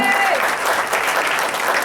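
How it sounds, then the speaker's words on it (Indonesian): A seminar audience in a hotel claps together, loud and dense, with a voice briefly over the applause at the start. "Tepuk tangan buat teman-teman sekalian ya."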